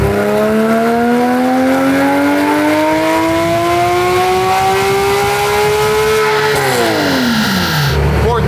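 A BMW E92 M3 engine revs hard on a dyno pull, its loud rising howl climbing steadily for several seconds before dropping sharply as the throttle closes, heard close with no talking.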